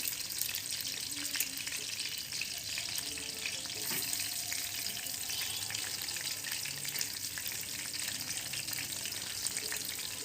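Fenugreek seeds and onion fry in hot oil for a fish gravy, a loud, dense, continuous sizzle with an occasional stir or clink over it throughout.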